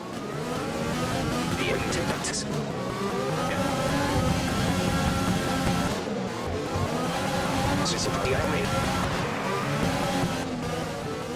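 Race cars run in a racing video game at Japan, a loud sustained engine drone with shifting revs and brief bursts of higher whine, steady throughout and close up, with faint talk over it.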